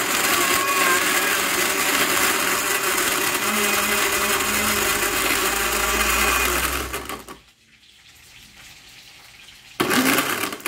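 A blender crushing ice for a milkshake, roaring loudly and steadily for about seven seconds, then stopping before a brief restart near the end.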